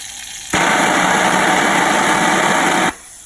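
A Snap-on jet flusher spraying water starts with a sudden loud, hissing rush of high-pressure spray, holds steady for a couple of seconds, then cuts off abruptly, leaving a lower machine hum.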